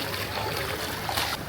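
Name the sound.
speed boat on the sea at a Goa beach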